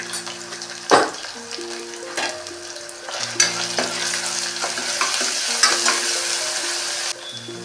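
A spoon stirs masala paste in a frying pan for a tindora curry with ginger paste and turmeric, giving scraping strokes over a soft sizzle, close and fairly loud, with no talk.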